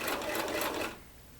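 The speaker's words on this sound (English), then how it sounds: "Every time I sew over one fold, I make another one" A sewing machine stitches rapidly over a folded fabric hem on a Christmas stocking, a short burst of quick mechanical rattling that stops abruptly, no talking.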